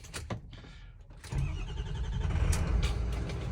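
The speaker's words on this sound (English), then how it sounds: "But let's give her a fire up." A factory race truck, an older stock-exhaust truck with a clutch, cranks briefly and then fires up, settling into a steady, close, low engine rumble at idle.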